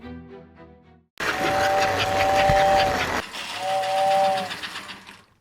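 A toy train runs with a steam whistle: steady rumbling clatter with two long whistle blasts, following a brief bit of music, close and loud.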